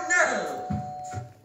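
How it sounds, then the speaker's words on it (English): A cartoon doorbell rings near the start, a bright chiming tone that fades quickly, followed by a few short low bumps. "Oh, who's at the door now?"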